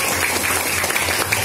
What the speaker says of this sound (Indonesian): Berikan aplaus buat Indonesia.